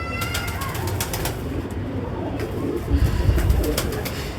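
Patti pigeons coo in low, soft repeated murmurs, with occasional flutters and a steady ambient hum; several birds close by.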